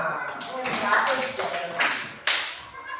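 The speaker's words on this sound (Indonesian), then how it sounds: "Iya, tepuk tangan." A small group of people, likely a classroom, claps in a few short, uneven bursts, with one sharp clap standing out, while voices continue between the claps.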